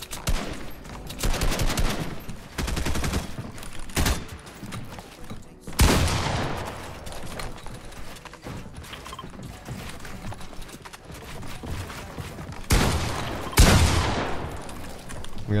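Rapid gunfire bursts in a Fortnite 2v2 zone war, repeated loud cracks and automatic fire across the whole stretch, with brief quieter gaps between volleys and little talk.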